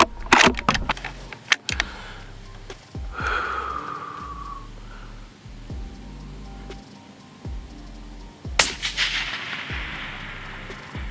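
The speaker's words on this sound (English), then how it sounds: "So we've now taken 11 shots and getting similar speeds, and we just smoked 3 impacts in a row" A 7 PRC elk rifle fires outdoors, each loud sharp report followed by a distant bullet impact on a long-range steel target; a few separated blasts with decaying echoes, no talking.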